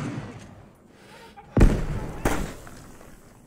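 A frag grenade goes off inside a tunnel in the Vietnam-setting combat game Arma 3, one loud close blast followed by a second sharp burst and echoing rumble, with quiet voices before.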